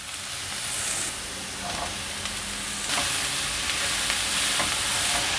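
Enoki mushrooms stir-fried with carrot in a pan, a steady close sizzle with scraping and stirring of a spatula pressing the mushrooms, crackle swelling partway through and continuing alone without talk.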